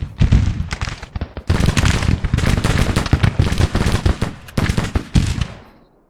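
Rifle volleys crack out in a Civil War battle video game, shots bursting densely and overlapping for several seconds, loud and close, with brief lulls between clusters of fire.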